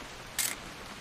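A single crisp camera shutter click, sharp and brief, taking a photo inside the video game What Remains of Edith Finch over a quiet, steady background hiss with no talking.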